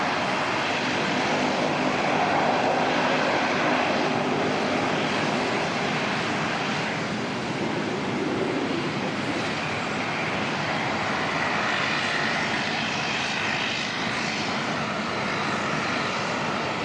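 A Singapore Airlines A380 at Auckland Airport gives off a loud, continuous engine roar and broadband rush that holds steady throughout with no break, heard with no talking.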